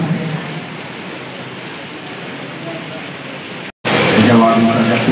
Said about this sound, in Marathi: सर्वात जोरदार पाऊस सर्वात मुसळधार पाऊस आज करत आहे.